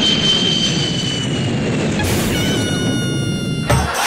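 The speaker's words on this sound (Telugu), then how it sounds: "పై నుంచి ఫ్లైట్ వెళ్తుందిగా" An airplane passes overhead during an outdoor comedy sketch, its steady jet roar and whine filling the scene, loud and close, with little talk.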